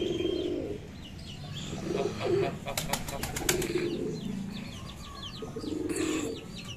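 Pigeons kept at a village home near Karachi coo softly and repeatedly close by, with a brief burst of flapping wings midway and quiet background sound.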